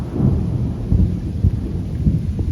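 Low rumbling thunder from a thunderstorm in Metz rolls and pulses over steady rain, with several deeper booms swelling and fading across the stretch.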